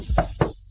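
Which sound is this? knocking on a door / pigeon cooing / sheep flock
knocking on a door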